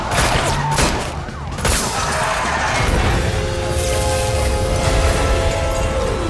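Gunfire aimed at vehicle tires in Marvel's Guardians of the Galaxy video game comes as loud, dense bursts of shots with crashes and mechanical clatter, continuous throughout and close.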